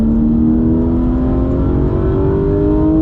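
A Porsche race car accelerates on a track, its engine note climbing steadily in a loud, sustained, close drone that rises in pitch without a break.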